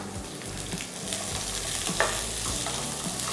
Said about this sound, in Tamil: 3 வெங்காயம் நல்லா பெருசாக நறுக்கி வச்சுருக்கேன். இதில் இதை சேர்த்துக்கலாம். சேர்த்து நல்லா வதக்கிக்கலாம்.